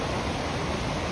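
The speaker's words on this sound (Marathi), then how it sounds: "झुळझुळ वाहतंय पाणी" Clear snowmelt water flows in a river beside a forest trail, a continuous broadband rush that is steady and close with no pauses.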